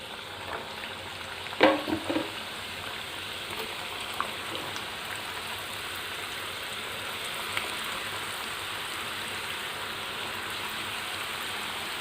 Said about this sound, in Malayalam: നമുക്ക് ഇതെല്ലാം തന്നെ കോരിയെടുത്തിട്ട് അടുത്ത സെറ്റും വറുക്കാൻ ഇട്ട് കൊടുക്കാം